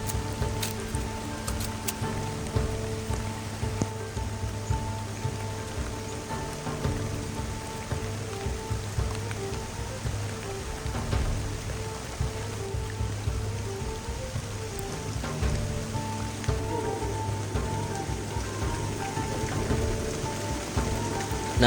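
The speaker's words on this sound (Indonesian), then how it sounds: "hujan yang tak kunjung berhenti" Heavy rain pours steadily in a forest, a dense continuous patter of drops on leaves and surfaces lasting the whole stretch, close and enveloping, with no voices.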